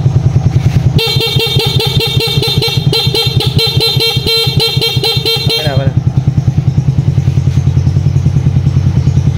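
A 2022 Suzuki Smash motorcycle idles loudly nearby while its horn blares continuously for about five seconds, then the engine putters on alone.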